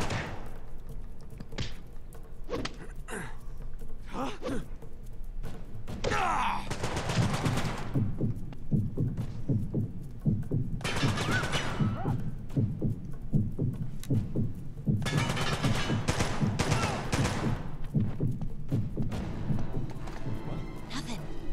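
Shotgun fire from heavies in the PlayStation Vita game Uncharted: Golden Abyss, with repeated bursts of gunshots and thuds spread across about twenty seconds, mixed with other game noise.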